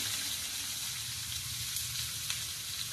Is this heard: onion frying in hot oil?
yes